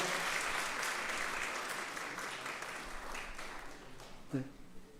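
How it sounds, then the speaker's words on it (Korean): Welcoming applause from a church congregation during a Sunday service for newly introduced members, a broad, sustained wash of clapping that holds steady and then slowly tapers, with a brief voice near the end. "우리 함께 환영의 박수 해드리겠습니다"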